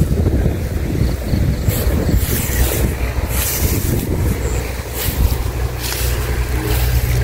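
Strong dry wind blowing across an open outdoor field, roaring steadily and buffeting the microphone with continuous low rumble and occasional gusty bursts, loud and close throughout with no voices.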